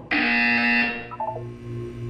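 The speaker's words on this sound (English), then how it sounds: "When you hear the buzzer, look down at the floor." A loud, harsh electronic buzzer in the video game Portal 2 blares for about a second, then cuts off, followed by a few quieter tones over a low hum.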